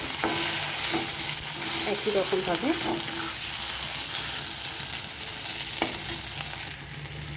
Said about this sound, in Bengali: আদাটা দিয়ে কিছুক্ষণ আমি ভেজে নেব আলুটার সাথে